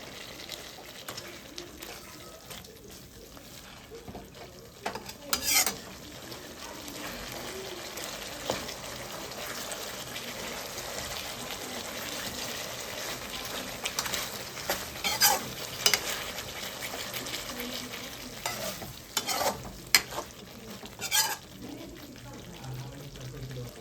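Prawn-stuffed malai chicken fries in a pan with a low, steady sizzle, broken every few seconds by sharp clatters of stirring against the pan.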